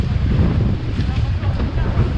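Strong wind buffets the microphone in a steady low roar on a raft on open water, with water and boat noise mixed in and a voice faintly underneath.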